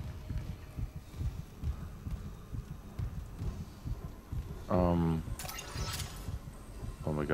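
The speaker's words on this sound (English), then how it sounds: "I can hear his heartbeat." A faint, low rhythmic heartbeat throbs under a dark ambient hum in the Dead Space Remake on PS5, with a brief mechanical whirr and a sharp burst cutting in near the end.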